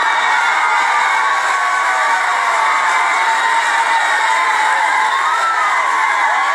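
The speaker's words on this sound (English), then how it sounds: "why are they clapping about this?" A comedy club crowd claps and cheers at Leslie Jones's stand-up act. The cheering and whooping form a dense, loud, continuous wash of sound that holds steady throughout.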